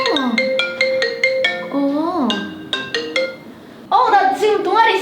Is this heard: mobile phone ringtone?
yes